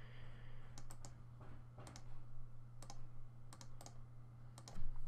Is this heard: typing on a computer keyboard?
yes